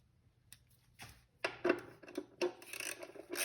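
A part on a 2009 Audi Q5 is tightened with a T40 bit during an oil change, making faint, close scraping and rubbing clicks in short irregular bursts.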